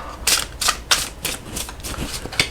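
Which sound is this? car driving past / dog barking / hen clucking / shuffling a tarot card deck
shuffling a tarot card deck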